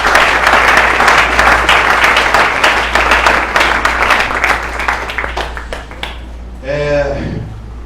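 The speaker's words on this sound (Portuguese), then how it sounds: "Vamos aplaudir o Senhor" A church congregation claps loudly and steadily for several seconds during a worship service, the applause thinning out near the end as a voice begins speaking.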